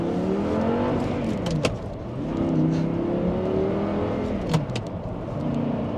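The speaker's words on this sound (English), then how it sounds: "the revs go so up and so down so quickly" A V10 engine in a Lamborghini Gallardo or Audi R8 revs up and down rapidly, its pitch rising and falling in quick sweeps, loud and close.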